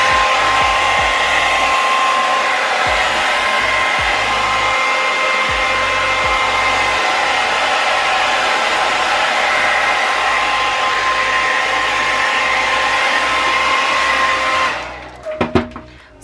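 A heat gun blows a loud, steady, whining roar of hot air over a color-changing Jordan 1 sneaker, running close and unbroken before cutting off near the end with a few clicks.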